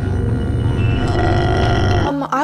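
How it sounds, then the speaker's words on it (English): A long, loud, guttural burp with a low croaking drone, ending in a brief strained vocal sound. "You trying to burp looks scary."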